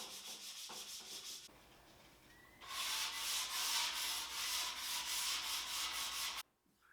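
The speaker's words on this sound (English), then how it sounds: "it's pretty easy just to hand sand this stuff off." Drywall compound filling nail holes being hand sanded smooth: close, steady rhythmic rasping strokes, a short burst, a quieter pause, then a longer louder run of back-and-forth sanding that stops abruptly.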